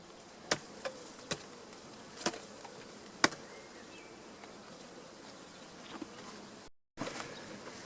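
Honey bees hum faintly and steadily around hives during a summer honey harvest, with scattered sharp knocks and taps over the buzz and a brief dropout near the end, with no talking.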